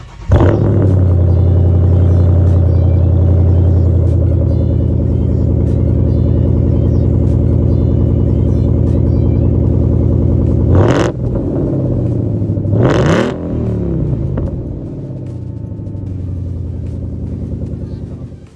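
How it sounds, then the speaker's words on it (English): A stock-exhaust 2015 Ford Mustang GT V8 sits at a loud, steady idle for about eleven seconds, then gives two sharp revs that swell and fall, and finally settles back into a lower idle. "Here's the startup before the headers."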